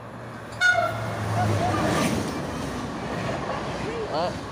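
A passing train sounds a loud, sustained horn blast that starts early and holds steadily over the low rumble of the moving cars, with people talking nearby.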